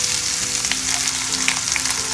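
Finely chopped onions, three of them, sautéing in hot oil with cumin seeds for a Tamil tomato thokku, giving a steady, close, dense sizzle and crackle with a few small pops, heard alone.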